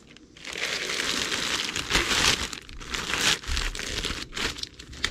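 Plastic wrapping crinkles and tears loudly as it is pulled off a Gamo Magnum GR air rifle, a close, continuous crumpling rustle with brief louder bursts.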